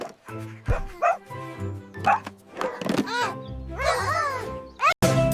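A cartoon firefighter puppy barks and yips in quick, bright, close bursts, with whiny pitch-bending yelps mixed among the short barks.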